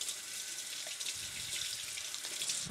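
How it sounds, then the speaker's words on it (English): A kitchen tap runs steadily as hands are washed in the sink, a continuous soft hiss of flowing water with small splashes and shifts in tone as the hands move under the stream, with no talking. "now I'm going to wash my hands one more time"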